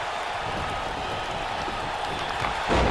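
Crowd noise from a WWE 2K19 wrestling match, a steady broad roar of cheering and applause filling the arena, swelling slightly louder near the end.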